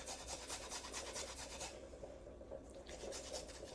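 Fresh ginger is grated over a soup pot, making soft, rapid rasping strokes in an even rhythm, with a short pause midway before the grating starts again, faint and close.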